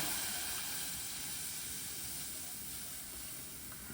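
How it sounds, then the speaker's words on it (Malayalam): A faint, steady hiss and sizzle as milk is poured into a hot pan, fading slightly toward the end with no voices. "ഇനി ഈ പാൻ വെച്ചിട്ട് അതിലേക്ക് നമുക്ക് ചേർത്ത് കൊടുക്കാനുള്ളത് പാലാണ് കേട്ടോ"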